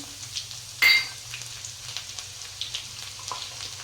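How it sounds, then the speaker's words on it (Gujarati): Cumin seeds and chopped garlic frying in hot oil, with a sharp burst of sizzle as they drop in, then a steady low crackle and scattered light pops, close by with no talking. "નાની બે ચમચી આપણે જીરું નાખીશું એક ગાંગડો લસણનો આપણો ફોલેલો કટ કરેલો નાખીશું"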